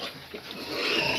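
Piglets squeal and grunt close up as they jostle to nurse from a Pietrain sow in a farrowing crate on a concrete pen floor, a continuous mix of high-pitched cries without talk.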